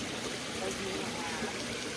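Water rushes at Nam Tok Jet Phi, a waterfall in a natural forest setting, as a constant broadband roar of falling and flowing water, steady and fairly close with no breaks.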